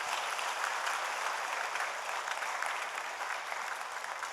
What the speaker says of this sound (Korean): 박수 한번 해 주실까요?